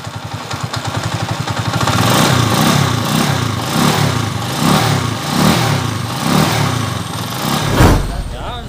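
A 29-year-old motorcycle idles and revs up close, its exhaust giving a slightly off, uneven note. A steady rhythmic throb of pulses rises and falls through the clip, ending with a brief burst of noise.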